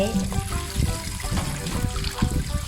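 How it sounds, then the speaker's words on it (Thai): Grapes are rinsed under running tap water after soaking in salt water, a steady trickling splash heard beneath a voice. "เราก็นำองุ่นขึ้นจากน้ำเกลือนะคะแล้วเราก็มาล้างผ่านน้ำนะคะ ล้างผ่านน้ำไว้"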